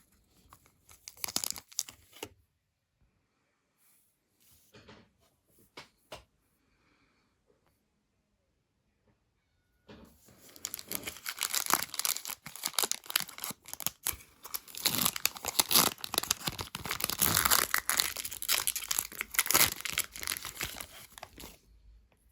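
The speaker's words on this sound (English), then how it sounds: "So we got the Upper Deck Evolution from 2001. And we're going to rip that open." A 2001 Upper Deck Evolution trading card pack torn open and crinkled, brief foil rustles early, then a long stretch of close, dense tearing and crinkling after a quiet pause.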